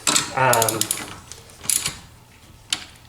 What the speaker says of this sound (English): Socket's nice because you can ratchet it